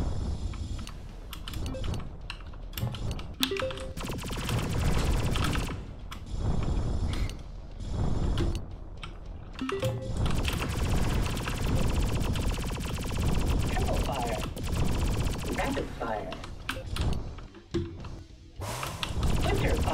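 Rapid weapon fire in the arena shooter Drunken Robot Pornography, heard as dense mechanical clattering and ratcheting bursts that stop and restart over twenty seconds, mixed with game effects and someone talking.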